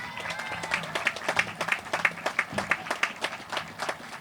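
Graduation ceremony audience at Westford Academy applauds, a crowd's clapping with distinct rhythmic claps standing out close by, moderately loud and continuous for several seconds.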